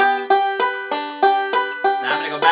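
A banjo plays a steady roll pattern, bright plucked notes repeating in an even rhythm with a ringing drone string, a short exercise that moves between the first, third and fifth strings, close and alone.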